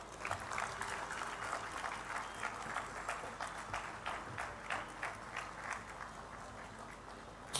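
An audience applauds at the end of a motivational speech by Gyanvatsal Swami, a steady wash of many hands clapping that sounds fairly distant and soft and keeps an even, rolling rhythm throughout.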